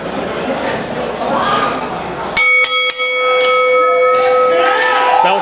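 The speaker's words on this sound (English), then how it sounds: "Bell sounds are underway." A wrestling ring bell clangs several times in quick succession, loud and ringing, after crowd noise and talk.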